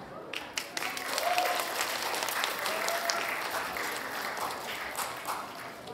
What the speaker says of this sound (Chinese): 如果大家的掌声也准备好的话，我觉得我们可以提前送上了